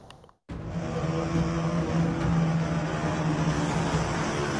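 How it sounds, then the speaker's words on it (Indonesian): A loud, steady motorcycle engine roar with a low droning exhaust tone from a noisy aftermarket exhaust, continuous and close, after a brief moment of near silence at the start. "bising knalpot"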